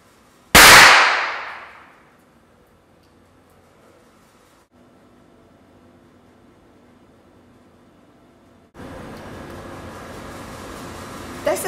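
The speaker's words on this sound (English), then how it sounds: "a violet laser will cause it to detonate" Nitrogen tri-iodide set off by violet laser light in a lab demonstration, a single sharp, loud crack that fades quickly into near silence before steady background noise resumes.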